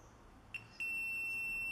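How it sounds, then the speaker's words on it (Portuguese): A multimeter in continuity mode beeps while diodes on a shorted circuit board are tested: a brief high chirp, then a steady sustained tone starting near the end, clear over quiet room noise. "Os dois diodos estão bipando."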